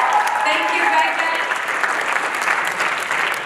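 A crowd claps steadily at a youth tech-for-good event, a dense, even wash of applause that holds at full strength for the whole few seconds without fading.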